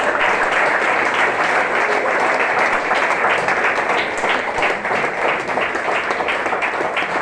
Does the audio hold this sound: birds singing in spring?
no